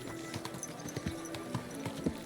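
Horse hooves clop steadily on a town street in the medieval game Kingdom Come: Deliverance II, a quiet, regular rhythm of hoofbeats over faint marketplace ambience.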